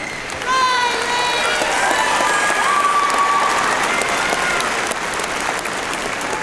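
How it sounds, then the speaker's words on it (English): A high school graduation audience breaks into applause for the graduates, dense sustained clapping from a large crowd with a wash of cheering and whistles layered over it, continuous and loud throughout. "Appropriate time for applause."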